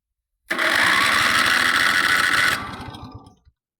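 A Countax garden tractor engine cranked via a starter wire, a loud close rapid chugging of the starter motor for about two seconds that fails to catch and then winds down.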